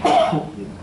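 A single short, sharp sneeze bursts out close by, then fades quickly into a breathy tail.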